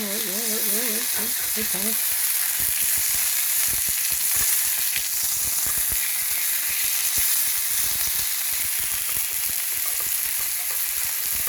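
Steak sizzles loudly and steadily in a skillet inside a cabin, a dense continuous hiss with crackling pops, after brief spoken remarks at the start.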